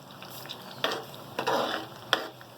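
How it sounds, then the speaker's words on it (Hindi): Tomatoes cooking in oil for tomato chutney, a soft low sizzle punctuated by a few sharp stirring clacks and scrapes of a spoon against the pot. "अब तेल के साथ थोड़ा इसको 5 मिनट हम पकाएंगे।"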